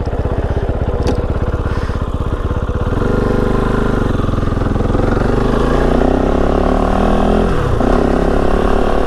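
A Kove 450 Rally dual-sport motorcycle starts and runs loud and close, its single-cylinder engine chugging at a rapid idle pulse before settling into a steady, strong drone with a rising, revving sweep near the end.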